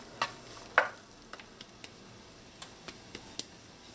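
Onion and garlic sauté in a pan over medium heat, a soft, quiet sizzle dotted with sparse sharp clicks and taps.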